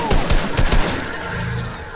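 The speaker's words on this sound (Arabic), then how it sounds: "هو شكله بيضربوا عليا" Rapid gunfire in a Fortnite trio match, several close sharp shots in quick succession before a sustained noisy wash of battle sound.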